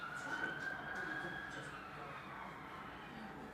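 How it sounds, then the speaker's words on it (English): A police car siren wails outside, heard from indoors at moderate distance, its rising and falling tone sweeping clearly for the first couple of seconds before fading into a steady hum of traffic. "why is there always police cars in this gaff?"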